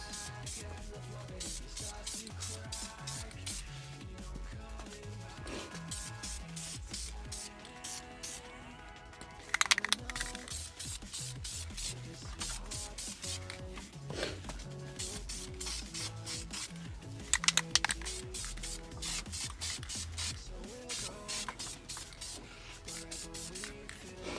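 Light coats of gold spray paint go onto BMW E36 wheel rims as a steady, close aerosol hiss runs throughout, with a couple of brief louder bursts.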